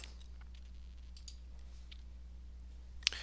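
A single sharp mouse click on a Save button lands near the end, after a few faint, scattered clicks over a quiet, humming room.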